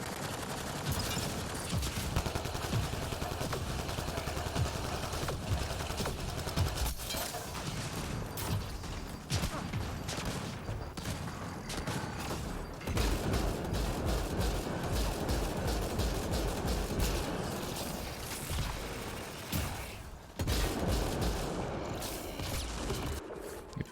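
Rapid video game gunfire rattles on almost without pause, with dense overlapping shots and mechanical clatter, loud and close throughout the whole stretch.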